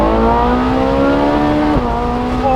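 A 2012 Ferrari 458 Spider's 570-horsepower flat-plane crank V8 revving toward 9,000 RPM, loud and close with a rich harmonic howl, holding high then dipping briefly as the revs drop and rise again.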